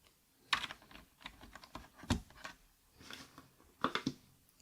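Typing on an 8BitDo Retro Mechanical Keyboard M Edition fitted with Akko Rosewood switches: close, irregular bursts of crisp keystrokes with short pauses between clusters, with no talking.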